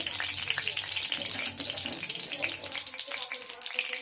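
Oil sizzling steadily in a pan as fish fry, a continuous crackling hiss that holds for the whole stretch with faint scattered pops, fairly close and loud enough to fill the space.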